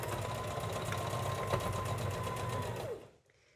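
A sewing machine running a straight stitch on a clothing alteration gives a steady, fast mechanical whirring buzz up close, then stops abruptly near the end.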